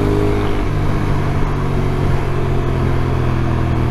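A 2024 Ducati Streetfighter V2 motorcycle engine drones loudly and continuously up close, a steady rumbling roar under way on the road with no talking.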